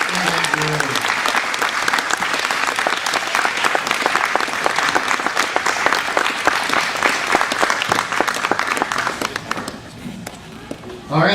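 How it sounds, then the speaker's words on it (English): Wedding reception guests applauding the newlyweds, a full, loud wash of clapping that runs unbroken for most of the stretch before thinning and fading near the end, with a voice briefly audible at the start. "how about a round of applause for Matt and Maddie, Heather, Luke, and Drew"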